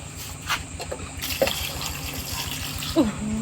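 Water poured into a pot of mushroom curry as it cooks on the stove, with a steady faint trickle and splash running through the whole clip and a couple of small louder spills.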